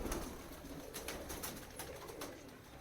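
Pigeons on a high rooftop in Allahabad coo softly in the distance, with light scattered knocks and rustles amid quiet outdoor ambience.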